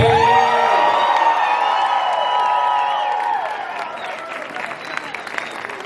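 A crowd cheers and applauds at a Mississippi governor's election-night victory celebration, loud whoops and shouts over dense clapping that gradually fade into scattered claps and voices.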